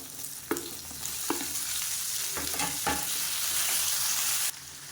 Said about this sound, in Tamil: அந்த வெங்காயத்தோட வாசனை வரணும் அந்த அளவுக்கு நல்லா வதக்கி விட்டுக்கோங்க